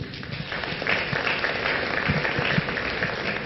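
A conference audience applauds steadily for the whole stretch, a dense wash of clapping that stays even and fairly close, with no voices over it.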